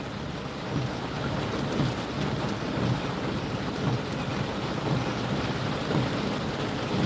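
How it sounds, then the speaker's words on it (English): Heavy rain pours down in a dense, continuous roar, with gusty rumbling underneath and no voices. "Yeah, this is some sincere rain."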